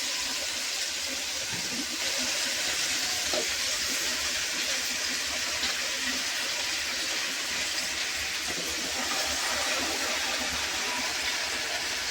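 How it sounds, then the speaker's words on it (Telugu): Fresh, drained gongura (sorrel) leaves dropped into hot oil give a steady, loud, continuous sizzle and hiss that lasts throughout, close by, with no talk over it. "ఆయిల్ వేడెక్కింది, గోంగూర వేసేసుకున్నాము"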